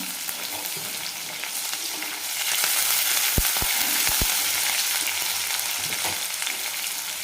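Green chilies and curry leaves frying in hot oil in a pan, a steady close sizzle that grows louder partway through, with a few soft knocks of stirring and no voices.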